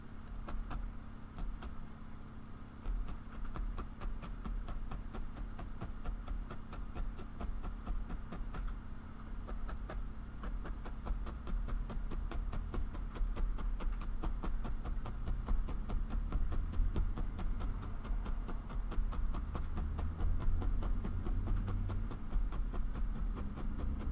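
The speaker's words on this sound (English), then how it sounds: "Loud traffic. Got a lot of dump trucks going by lately" Road traffic with dump trucks passing outside, a low rumbling drone that swells gradually louder over about twenty-four seconds, heard faintly from indoors with no talking.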